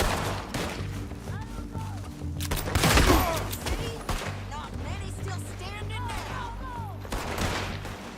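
Gunfire from a shootout in the Red Dead Redemption 2 video game: several sharp shots and a louder burst near the middle, set among music, effects and voices talking.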